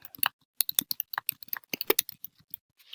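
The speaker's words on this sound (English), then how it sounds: "So we're going to type" A computer keyboard is typed on in short bursts of crisp, close keystrokes with brief pauses between them, heard alone without speech.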